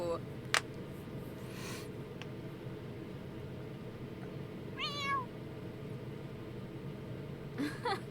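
A cat in The Sims 4 video game gives a short rising meow midway, with faint clicks and brief soft noises around it over a steady low hum of gameplay background.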